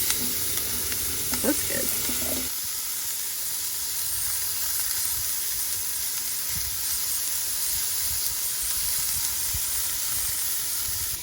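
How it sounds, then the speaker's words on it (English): Onion sautéing in butter in a cast iron pot during winter backyard camping makes a dense, continuous close sizzle, with a few brief spoken words near the start before frying carries on alone. "we're going to overcook the onion because it brings out more flavor"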